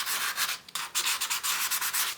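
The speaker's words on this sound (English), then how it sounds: "and just sand a pumpkin a little bit" Pumpkin surface being sanded with 600 grit sandpaper, a steady close scratchy rubbing in quick back-and-forth strokes with brief pauses, heard alone.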